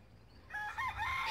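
A Sussex rooster crows in a farmyard flock, a single strong crow that starts after a quiet half second and rises and wavers to the end, fairly close and loud with no talking.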